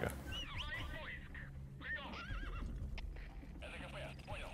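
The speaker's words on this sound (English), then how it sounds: "What a good horse." A horse in Metal Gear Solid V: The Phantom Pain whinnies repeatedly in loud, wavering neighs over a busy background of hoofbeats and game ambience.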